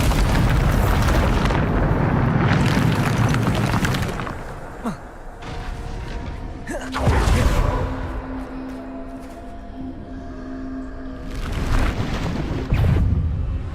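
Repeated Bombarda spell explosions in the Hogwarts Legacy video game on PS5, heavy booming blasts at intervals with rumbling decay and whooshing spell effects between them, loud and close.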